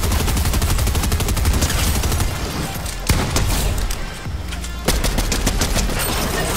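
Sniper and automatic gunfire in a Fortnite match, a rapid, loud barrage of shots that runs almost nonstop, broken by a couple of sharper single cracks and brief lulls.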